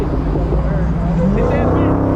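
A Dodge Hellcat's engine revs in traffic, a deep throaty roar with rising and falling pitch sweeps, close and loud, with people talking over it.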